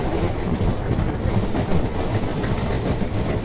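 A sleeper train travelling through Kerala, India, heard from on board as a steady loud rumble with rhythmic clickety-clack of wheels on rail joints, continuous and close throughout.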